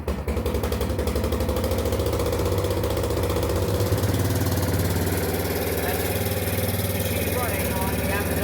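A Kawasaki Prairie ATV engine fitted with an aftermarket carburetor runs steadily at idle, a loud, continuous mid-pitched throb with a fast regular pulse that holds close and even throughout.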